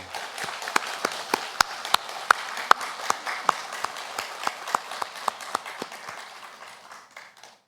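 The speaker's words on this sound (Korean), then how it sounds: "하나님께 감사의 박수를 올려드리겠습니다" During a Sunday service at a Gunpo church, the congregation claps in a steady, rhythmic beat. The sharp, evenly spaced claps ring out over a softer wash of applause, then gradually thin toward the end.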